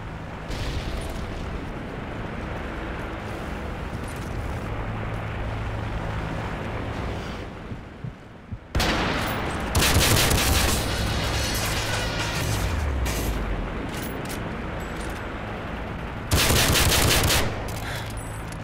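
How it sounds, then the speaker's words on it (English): Enemy strafe run in Modern Warfare 3: sustained rattling machine-gun fire over a rushing roar, breaking into louder, denser bursts partway through and again near the end. "Enemy strafe run incoming!"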